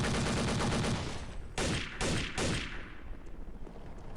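Heavy machine gun fire in Counter-Strike: Condition Zero Deleted Scenes: a loud, dense stream of gunfire followed by three sharp separate bursts, then trailing off into quieter ambience. No talking.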